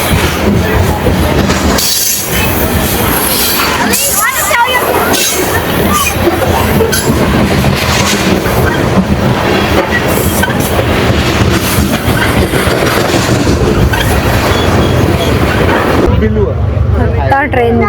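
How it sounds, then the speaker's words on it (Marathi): A train rolls past on rails beside the Pacific shore during Canada Day, giving a loud, sustained clatter with squealing wheels. Voices sound beneath it, and the noise drops away abruptly at the end. "आता ट्रेन गेलेली आहे"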